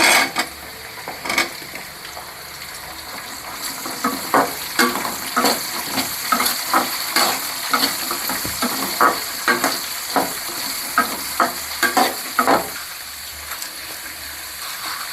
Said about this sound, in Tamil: நான் இந்த ஸ்டேஜில் வெங்காயம் நான் எடுத்து சின்ன வெங்காயத்தை கலந்துக்கிறேன்